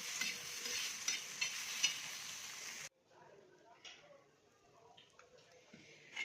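A little oil in a pan roasting ground ingredients for a Marathi amti: a bright crackling sizzle with stirring for a few seconds, then an abrupt drop to quieter intermittent scraping and light ticks, close and soft.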